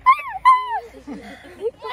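A dog whimpering and yipping indoors at a family home, a few high, close whines in quick succession followed by softer whimpers, with no talk over it.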